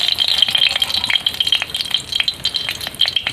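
A dried red chili fries in hot mustard oil in a kadai, giving a loud, close, continuous sizzle with sharp spitting crackles and rattling pops throughout, with no voices.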